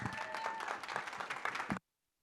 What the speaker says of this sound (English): Big round of applause for the dynamic duo from Good Apple.